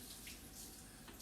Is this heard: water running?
yes